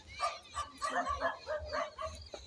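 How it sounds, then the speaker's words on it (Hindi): A dog barks repeatedly from behind in a village field beside mustard crops, a series of yipping, somewhat distant barks in an uneven rhythm. "कुत्ता भौंक रहा है यार"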